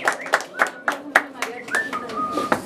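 Clapping for Alejandra at her quinceañera, where a youth mariachi band plays: a few sharp, evenly spaced handclaps ring out close by, with voices talking beneath them.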